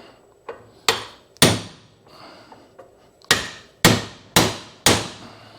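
Sharp hammer blows drive a lower ball joint on a Honda TRX400FA Rancher ATV into place through a socket, seven loud metallic strikes in an irregular rhythm with brief ringing decay, close and alone.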